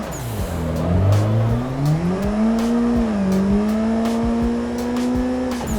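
A car in Assetto Corsa drifts into the Ebisu Minami Jump in second gear after an e-brake entry, its engine droning loud and close with a rising, wavering pitch and faint tire noise throughout.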